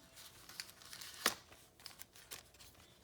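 A small paper matchbook-style cover on a steampunk junk journal is pried open, giving faint crinkling and rustling with one sharper papery snap midway.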